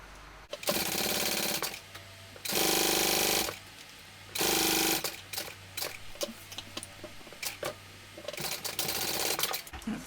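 Sewing machine top stitching a zipper, running in several loud sustained bursts of rapid motor-driven needle chatter separated by short pauses and lighter clicks, no talk.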